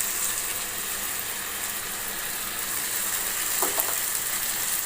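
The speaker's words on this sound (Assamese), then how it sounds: "এতিয়া মছলাখিনিৰ সৈতে এইখিনি ভালকৈ ভাজি থাকিব লাগিব" Spice masala fries in a pan with paneer, a steady bright sizzle spread evenly throughout, close and continuous, with a brief scrape of stirring near the end.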